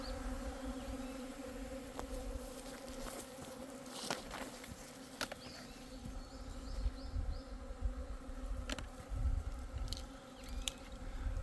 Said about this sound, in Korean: 그러면 벌이 난리가 나게 되어 있어요.